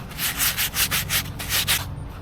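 A new plastic gold pan is scrubbed by hand between its riffles to rough up the surface, giving about seven rapid rhythmic sanding strokes, close and fairly loud, with no talk.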